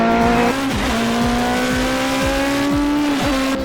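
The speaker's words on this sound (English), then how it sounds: "now as this car accelerates up the main straight, I want you to watch how Bill changes gear." A Mini race car with twin gear sticks accelerates hard up a circuit's main straight, its engine note climbing steadily and dipping briefly at each quick gear change, loud and close throughout.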